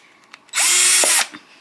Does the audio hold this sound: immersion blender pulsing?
no